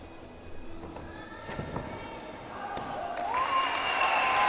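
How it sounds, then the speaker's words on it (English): Home crowd in an arena cheering after a women's gymnastics vault at the 2023 Mersin World Challenge Cup, growing from a low murmur with scattered claps into loud, swelling cheers and applause. "Huge cheers going up from the home crowd."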